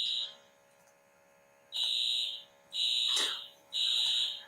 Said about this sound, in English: Okay, I have to run because there's a fire alarm.